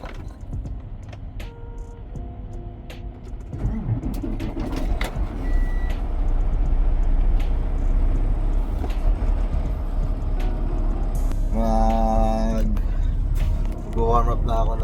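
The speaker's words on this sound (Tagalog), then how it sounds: "papaandarin natin yung truck natin" A large truck engine turns over in the cold and settles into a low, steady idle, with someone talking nearby and repeated beeping and whining tones near the end.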